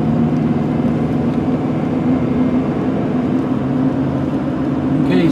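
A snow plow truck cruising at about 25 miles per hour, heard from inside the cab as a steady, loud low engine drone and road rumble throughout, with no talking.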